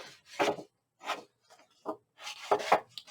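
Dry rubbing and scraping of an ink pad dragged along the edge of a Graphic 45 paper craft folio piece, in several short close strokes separated by brief pauses.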